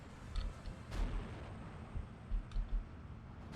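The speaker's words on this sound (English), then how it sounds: "these mortars are being very active from the German side and targeting anti-tank positions" Distant mortar rounds fired by German forces thud and crack in a Steel Division 2 battle, several dull booms scattered across a low rumbling ambience, one sharper burst early and a cluster of thumps near the end.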